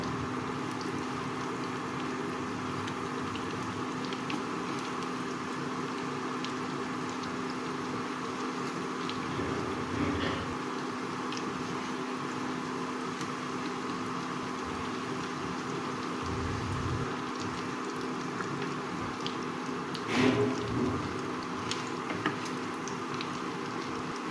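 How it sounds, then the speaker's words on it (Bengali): Chicken rolls deep-frying in hot oil in a kadai give a steady, dense bubbling crackle throughout, with a couple of brief louder spurts; no one speaks. "এখন রোলগুলো আমি ভেজে নেব"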